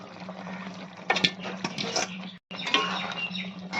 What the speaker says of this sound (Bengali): এখন দিয়ে দেবো সিদ্ধ করে রাখা ডুমুর আর আলুটা।